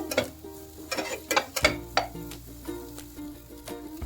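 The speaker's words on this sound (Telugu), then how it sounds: "ఉల్లిపాయ ముక్కలు వేసుకోవాలి అలాగే క్యాప్సికం ముక్కలు కూడా ఇదన్నిటినీ కూడా ఒకసారి కలుపుకోవాలి" Onion and capsicum pieces frying in a pan are stirred with a utensil, giving irregular scrapes and clinks against the metal over a low sizzle, close and clear.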